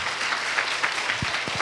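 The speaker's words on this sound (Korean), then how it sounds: "우리가 아멘 하나님께 박수 돌리며 영광의 박수 돌리며 아멘 하시겠습니다" A church congregation gives a short burst of applause to God during a New Year blessing service, brisk overlapping claps heard together with a few low thumps.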